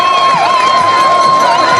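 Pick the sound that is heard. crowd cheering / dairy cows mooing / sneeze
crowd cheering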